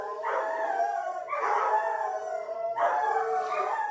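Dogs howl and bark indoors in three long, wavering bursts one after another, loud and close, with no one speaking over them.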